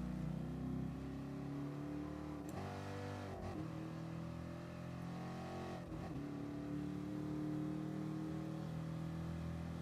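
A race car in Gran Turismo Sport holds a steady engine drone down a straight, with two brief dips and rises in pitch as it shifts or lifts off, fairly quiet and steady.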